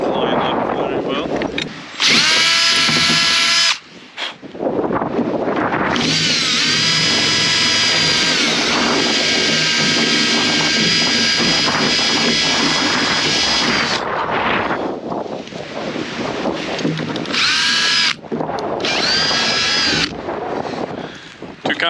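A power drill countersinks holes for a boat rail in loud, high-pitched bursts of whirring. The bursts start and stop several times, with brief gaps and some voices mixed in.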